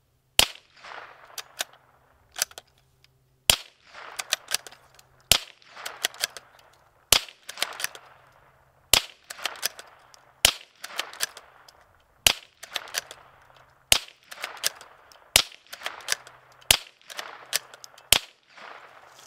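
Sharp gunshot cracks fire in repeated bursts of a few rounds each, loud and close, with quieter echoing tails between the shots.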